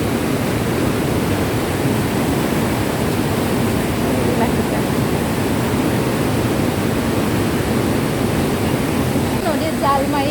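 River water flows steadily near a sluice gate where fishing nets are set in rural Assam, a continuous broadband rush of moderate loudness that persists throughout without pause.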